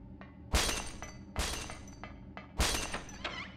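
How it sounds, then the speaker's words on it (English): Glass smashes loudly in the Silent Hill video game, three sharp crashes with tinkling fragments, each followed by a short ringing decay and no talk. "I really, really like that glass smashing sound"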